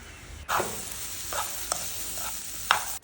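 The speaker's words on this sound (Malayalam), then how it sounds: "ഇനി ഇതാ ഞാൻ സോയാബീനും കൂടെ ഫ്രൈ ആക്കിയിട്ട് എടുക്കുകയാണ്" Soybeans fry in a hot pan with a steady broadband sizzle, broken by a few brief scraping stirs and one sharp clink near the end, close and fairly loud with no talking.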